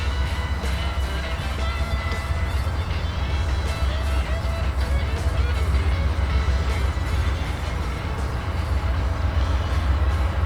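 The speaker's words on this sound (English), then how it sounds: "What you're looking at now is Norfolk Southern on the Chicago line headed northeast into Cleveland." A Norfolk Southern train rolls past on the Chicago line near Cleveland, giving a steady, moderately distant rumble with faint rail clatter that holds evenly throughout, with no voices.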